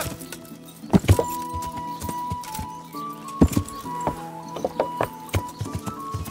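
Horse galloping in Kingdom Come: Deliverance, heard as repeated hoof thuds and clatter layered over steady in-game ambience and tonal music, with a few louder strikes standing out.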